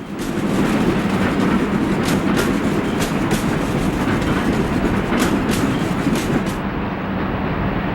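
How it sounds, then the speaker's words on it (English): A B&O train climbs an incline toward 4th Street Union Station, producing a steady, loud rumble with repeated rhythmic clicks of wheels over rail joints, continuous throughout without talk. "the train climbs an incline that leads to 4th Street Union Station"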